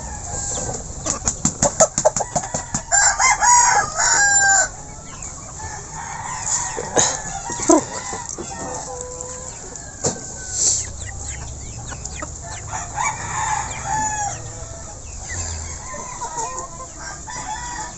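Rhode Island breeder chickens cluck and crow nearby, opening with a rapid burst of loud calls and wing flapping, then scattered clucks and a rooster crow over a quieter background of the flock.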